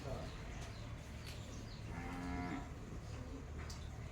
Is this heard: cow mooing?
yes